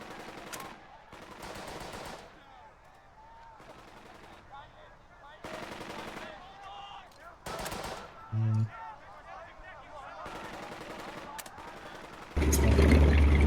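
Bursts of machine-gun fire and rifle shots in the WWII tactics game Burden of Command during an assault, repeated volleys separated by brief pauses, with a voice speaking between them and a loud heavy blast at the end.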